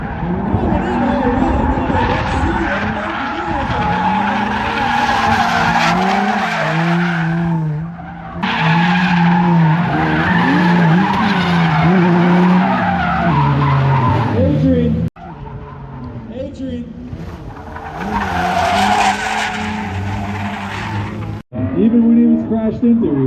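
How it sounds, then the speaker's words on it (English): Drift cars on Suika Circuit howl through a drift event, engines revving and tires squealing in long skids, loud and close, with sweeps rising and falling and brief cuts between runs, under a commentator's voice. "That's drifting in a nutshell."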